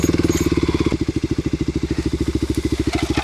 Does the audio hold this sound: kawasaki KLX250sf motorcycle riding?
yes